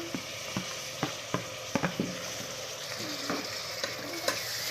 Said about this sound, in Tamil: பெரிய வெங்காயத்தை நல்லா வணக்கிக்கலாம்